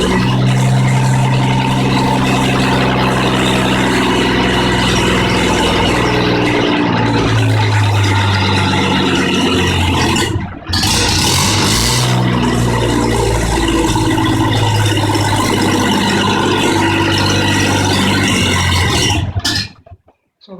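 A Volvo ED engine runs steadily after a cold start, a loud continuous low mechanical drone with a brief dip midway, cutting off abruptly near the end.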